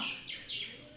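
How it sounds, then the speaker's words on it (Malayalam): A few quick high chirps from a bird, faint and somewhat distant, in a brief burst of birdsong. "കിളികൾ നല്ല ഒച്ചപ്പാടാണ് അപ്പുറത്തെ മരത്തിൽ വന്നിരുന്നിട്ട്"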